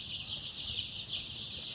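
Chickens on a village farm being prepared for a Gumboro vaccine give soft clucking calls, a faint, close, continuous chatter without any voices.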